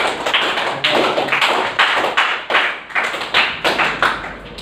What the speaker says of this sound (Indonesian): tepuk tangan untuk Nazar